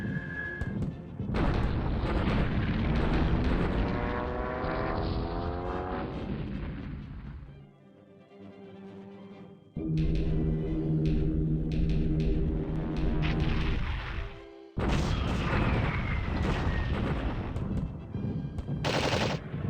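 Aircraft strafe a Hurricane squadron on the ground at Gravesend in a World War II Battle of Britain strategy game, with loud, dense bursts of machine-gun fire and booming impacts that break off briefly midway and resume.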